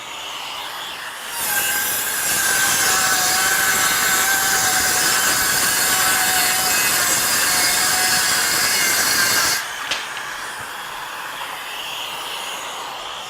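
A DeWalt XTREME 12V DCS512B cordless circular saw with an extractor hose attached rips through a wood board, a loud steady whine lasting about eight seconds after a brief start, then cutting off, leaving a quieter background hum.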